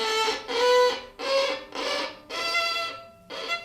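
A beginner's scratchy, uneven bowed violin notes in short separate strokes, harsh and wavering in pitch, played alone with brief gaps between them.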